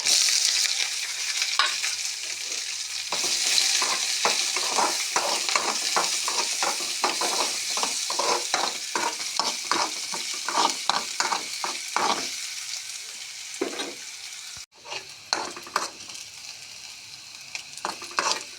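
Garlic and onion with cumin fry in a pan for a cabbage gojju curry, a steady sizzle broken by a long series of rhythmic scraping stirs, close and moderately loud, with a brief pause before stirring resumes.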